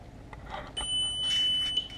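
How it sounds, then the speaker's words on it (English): Beeping from a Volkswagen Mk4 instrument cluster that has just reset while sitting out of the car on a bench; a steady, clear electronic tone sounds alone for over a second, with faint higher tones above it. "the cluster just reset and did its beeping"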